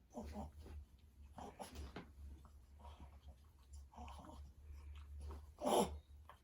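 A dog whimpers and snuffles while playing with another dog on a bed, soft breathy whines and rustling close by, with a person talking intermittently over the top.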